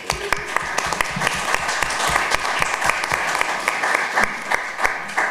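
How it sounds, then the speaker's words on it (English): An audience at a city council legislative session gives a brief round of applause, with sharp claps and a steady patter that carry on for about five seconds. "So let's give them a quick round of applause."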